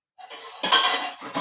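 A metal spoon scoops dry fried beef out of a pot into another vessel while making beef pickle. Close, sharp scraping clinks come in two or three quick strokes.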